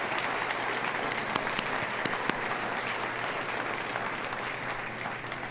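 A church congregation claps loudly and continuously, a dense, even wall of applause with a few sharper claps popping out.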